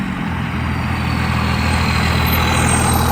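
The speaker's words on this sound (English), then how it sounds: "this is basically a tractor engine" Cummins diesel engine hard-mounted in a truck runs steadily nearby, a loud, continuous low rumble with a constant drone and no talking.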